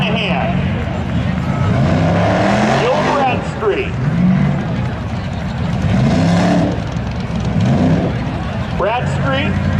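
A white 1989 Chevy Camaro and a red car launch side by side in spectator drags at Seekonk Speedway, engines roaring and rising in pitch through repeated surges. A crowd murmurs and an announcer talks over them.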